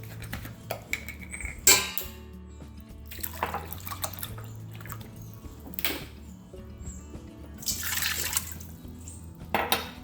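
Well water splashing and pouring into a pot for dill pickle brine in a home kitchen, with intermittent clinks of metal and dishes and bursts of running liquid.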